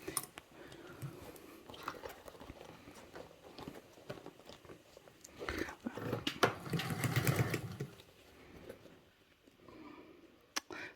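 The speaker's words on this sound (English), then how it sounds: "right now I'm basting" A sewing machine runs a basting stitch on a Travelnizer bag, quiet handling noises first, then a loud close burst of rapid stitching, then softer rustling.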